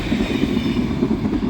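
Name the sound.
passenger train passing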